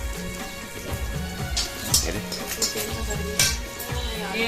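Chopped onions sizzle in hot oil for tempering in a home kitchen, a steady crackling hiss with occasional louder pops, running under a tonal hum.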